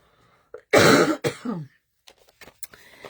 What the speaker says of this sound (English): 1 second, I got a cough.